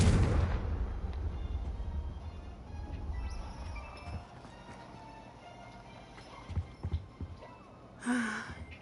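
A Confringo fire spell in the Hogwarts Legacy video game bursts with a loud blast at the start, then fades into quieter ambience with a few soft thuds and a brief breathy sound near the end.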